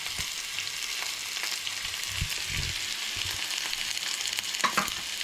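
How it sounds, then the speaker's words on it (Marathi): Onion with ginger and chilli sautéing in a pan for a Goan chicken dish, a close steady sizzle with intermittent stirring scrapes and soft knocks, no voices. "सो हे बरें परतून घेवंक जाय"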